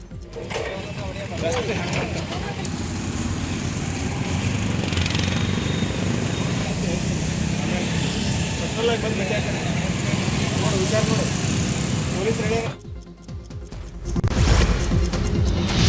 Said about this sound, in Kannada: ಪಿಬಿ ರಸ್ತೆಯಲ್ಲಿ ಸಾರ್ವಜನಿಕರ ಎದುರೇ ಪೊಲೀಸರು ಜೆಸಿಬಿ ಮೂಲಕ ಸುಮಾರು 40ಕ್ಕೂ ಹೆಚ್ಚಿನ ಮಾಡಿಫೈಡ್ ಸೈಲೆನ್ಸರ್ಗಳನ್ನು ಧ್ವಂಸ